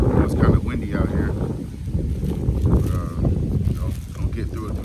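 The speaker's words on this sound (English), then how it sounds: "It's kind of windy out here." Steady wind buffets the microphone outdoors, a low rumbling roar that stays loud throughout with gusty swells.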